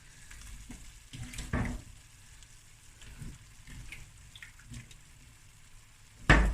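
Potatoes dropped into onions already frying in a pot for a sausage bredie, giving a soft, low sizzle with a few brief bumps and stirring noises, quiet overall, ending on a sharp louder clatter.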